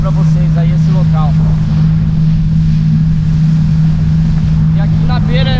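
A jet ski running at half throttle on a natural reservoir lined with houses, its steady engine drone continuous and close with wind buffeting the microphone, and speech tones rising over the motor.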